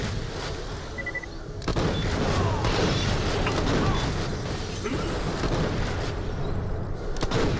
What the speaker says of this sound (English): Alright, let's try some grenades here